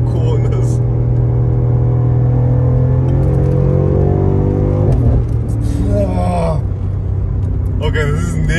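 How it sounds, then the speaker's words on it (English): BMW M5 Competition driven hard through corners, its engine a loud, steady drone whose revs rise and dip as the car is pushed, close and continuous throughout. "I'm actually feeling a bit better now that I'm pushing the car through corners."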